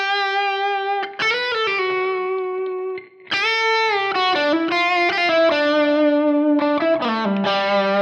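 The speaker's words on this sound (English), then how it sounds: "what's called a low mix delay or a long tail delay, where it's just something that you only really hear when you stop playing" Overdriven electric guitar playing a solo-style line of sustained, bending notes, with a low-mix, long-tail delay trailing faintly behind; the playing runs continuously apart from a brief stop around the middle, where the delay tail is exposed.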